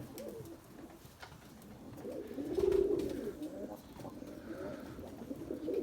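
Pigeons coo softly and continuously nearby, low rolling calls overlapping in a quiet, murmuring chorus with faint background rustle.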